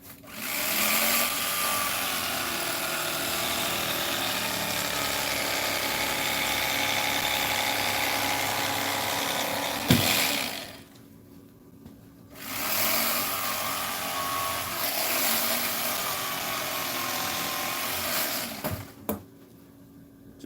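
A power tool whines steadily while trimming excess foam down on a seat being redone, running loud and continuous with a brief stop near the middle before starting up again.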